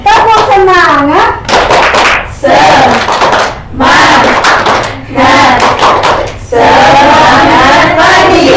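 A school class performs the 'tepuk semangat' clapping chant, loud group claps in rhythmic bursts alternating with children chanting in unison, close and energetic.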